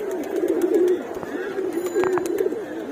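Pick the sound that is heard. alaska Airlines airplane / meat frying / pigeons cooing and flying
pigeons cooing and flying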